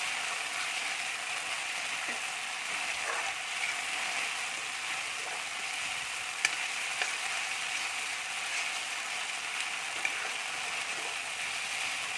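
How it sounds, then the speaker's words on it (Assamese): Spices frying in hot oil give a steady, soft sizzle with faint crackles and occasional small pops, continuous throughout, with no one speaking. "ভাজি ল'ম ধুনীয়াকৈ।"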